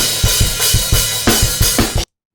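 Unpanned playback of a live drum kit recording plays a steady beat with kick and snare hits under crashing cymbals, dense and loud, then stops abruptly.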